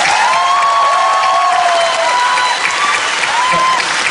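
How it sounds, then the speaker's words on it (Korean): An audience at a fan meeting gives loud, continuous applause and cheering for the actors, with shouted voices and a whistle-like tone riding over the clapping. "다시 한번 큰 박수 부탁드리겠습니다"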